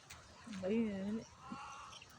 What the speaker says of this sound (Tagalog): Ang dami ibon eh.